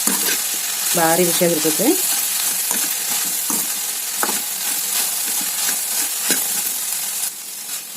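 Buttermilk curry with curry leaves, drumstick leaves, green chilli and onion is stirred in a pot, giving a constant sizzling hiss with soft scraping knocks. A voice briefly speaks near the start.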